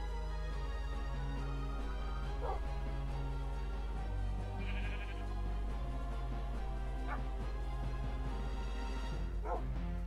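Dogs in the Minecraft video game bark and yip in short scattered bursts over a steady low in-game hum, with a few other animal bleats mixed in and no talking.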